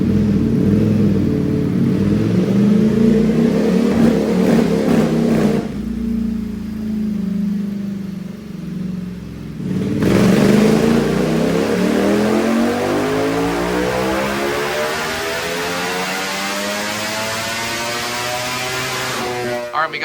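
A 2025 Ducati Panigale V4 on a dyno during a stock baseline run, its engine revving hard and climbing through sustained loud pulls, with a brief drop in the middle before rising again.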